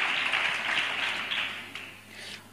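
Congregation applauding inside a church during a sermon, a dense steady wash of clapping that fades slightly toward the end, with no voices on top.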